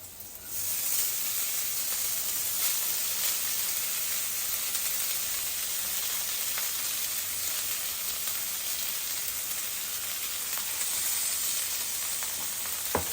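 Cooked rice fries in a pan with a loud, steady, close hiss and sizzle that rises at the start and then holds even, with faint stirring scrapes and no talking.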